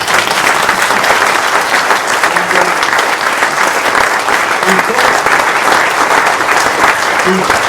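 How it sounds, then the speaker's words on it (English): Audience applause after a talk at a birding event, dense continuous clapping filling the room, loud and close throughout. "So please, huge round of applause for Ken."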